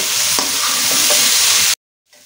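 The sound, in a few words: stirring chili powder into frying food in a pan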